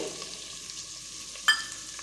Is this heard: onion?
yes